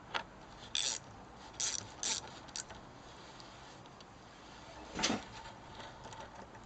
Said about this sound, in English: First thing to do is to remove the two caliper mounting bolts